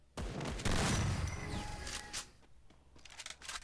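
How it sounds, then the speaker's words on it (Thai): Dual shotguns firing in the mobile battle game Free Fire, a loud burst of blasts up front followed by a few quieter scattered shots and game noise fading out. "ตอนนี้ผมจะเลือกเป็นลูกซองควงแล้วกันนะครับลูกซองควงนะครับ"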